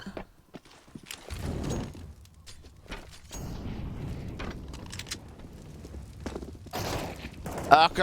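Glock pistol gunfire in Counter-Strike on the Nuke map, a rapid scatter of sharp shots and clatter with overlapping game effects and footsteps, moderately loud through much of the stretch.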